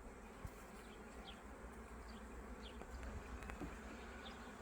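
Honeybees hum in a soft, continuous buzz at a hive in late March, with individual bees droning past now and then as they fly out; faint and outdoors, no speech.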